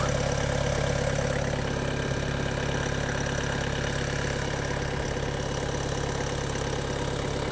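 A Skoda diesel car engine idles steadily nearby, a constant low rumble with a rapid, even knocking clatter throughout.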